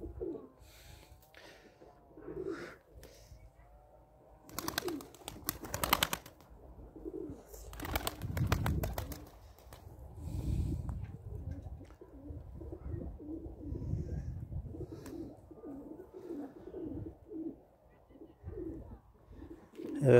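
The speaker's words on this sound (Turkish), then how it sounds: "Çekilişe koyacağımız kuşu gösterelim." Pigeons cooing in a loft while a man calls to a bird, soft repeated coos and wing flutters with occasional bursts of handling noise, close and moderate in level, with speech in between.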